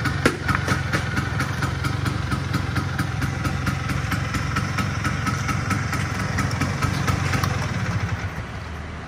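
A 1986 Vespa PX scooter engine runs steadily at idle close by, a continuous low putter with a fast even pulse that holds for the whole stretch, with no talk over it.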